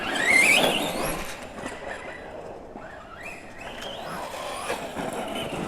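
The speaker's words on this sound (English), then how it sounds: "you can definitely hear the slipper clutch working" Slipper clutch on a Kraton RC car, a high, wavering squeal and whine that rises and falls over a steady running drone, fairly close.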